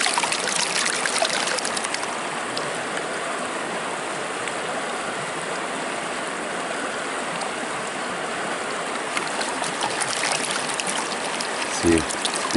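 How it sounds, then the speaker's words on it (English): Water swirling and trickling steadily as dirt is rinsed from a gold pan in a stream, a continuous close splashing wash with a brief knock near the end. "I'm just washing our material off at this point."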